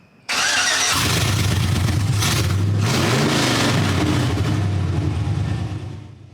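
A Chevy C10 Squarebody pickup engine fires up and revs hard through newly fitted exhaust cutouts, a loud, continuous close-up roar with rising and falling rev sweeps before trailing off at the end.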